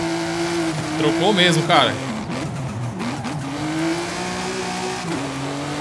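An Audi Quattro S1 engine in Forza Horizon 5 revs up and down with a buzzing, rising and falling note and a quick tire squeal, while someone talks over it.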